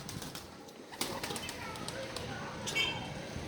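Pigeons kept on a home balcony flap their wings in flight, with a few sharp bursts of wingbeats over a steady background, heard at close to moderate range.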